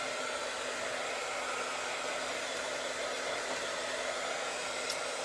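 A hair dryer blows steadily on a hand-painted pumpkin to dry fresh paint, a continuous broadband whoosh with a faint hum, close and unbroken throughout.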